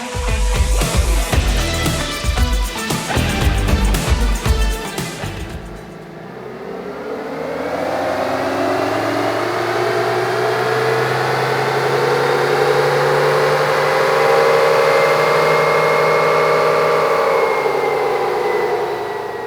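Ford Bronco engine running strapped to a chassis dyno, loud and steady, with a hard rev-up at first that drops, then a long rising drone as the engine climbs through the rpm range.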